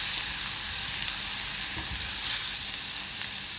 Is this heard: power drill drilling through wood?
no